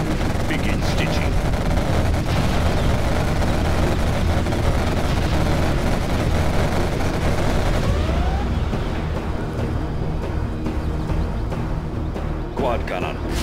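Quad cannon gunfire in Command & Conquer Generals Zero Hour, a dense, continuous rattle of rapid shots mixed with battle noise, steady and loud throughout.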